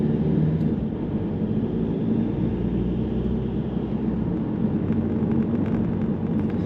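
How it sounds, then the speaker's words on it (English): Volvo S40 Mk2 diesel engine pulling away from a stop, a rough, agricultural low rumble that stays steady and fairly loud throughout, heard from inside the car with no talking. "the diesel does sound very agricultural when at a complete stop, and even more agricultural the moment you start setting off"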